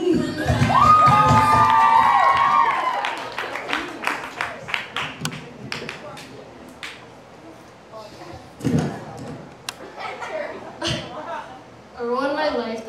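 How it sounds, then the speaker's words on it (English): A bar mitzvah crowd cheers and children shout loudly at a party venue, with a sustained roar of voices at first, then scattered whoops, claps and chatter, and a renewed burst of cheering near the end. "Make some noise for Jeannie."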